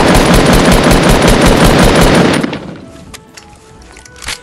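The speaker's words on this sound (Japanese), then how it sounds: "待ってたら銃声がしましたね。" Rapid automatic gunfire from the video game Fortnite rattles loud and continuous for about two and a half seconds, then cuts off, leaving a few quieter game sounds.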